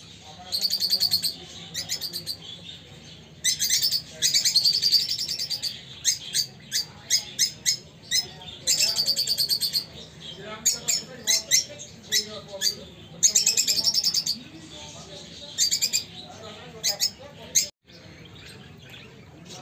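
A caged Karela quail calling, giving bursts of shrill, rapid chirping and squawks in repeated clusters, with quieter gaps between and faint talk in the background.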